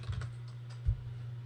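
Keys on a computer keyboard being tapped to enter a file name in software, a few quiet clicks over a low steady hum, with one thumpier press near the end.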